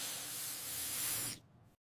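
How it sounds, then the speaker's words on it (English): An air freshener spray can releasing one steady, loud hiss for about a second and a half before it cuts off into silence. "I spray air freshener."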